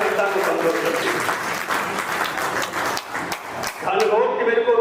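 Loud, close applause from the crowd at a Hindi comedy poetry recital, dense clapping that dips briefly and then swells again near the end, with voices mixed into the noise.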